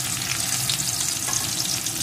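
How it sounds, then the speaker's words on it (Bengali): Chopped onion frying in oil in a pan, a dense continuous close sizzle with light stirring, no voices. "পেঁয়াজ কুচিটাকেও একটু ভেজে নেব।"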